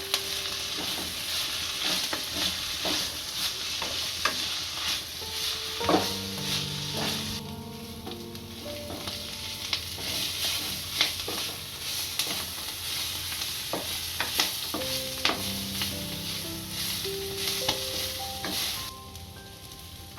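Fenugreek greens and pigeon peas sizzle steadily in a pan, with repeated scraping and stirring strokes of a utensil throughout; no voices.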